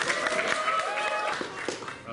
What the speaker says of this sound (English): Big round of applause for Brooklyn's Nicosi Solomon.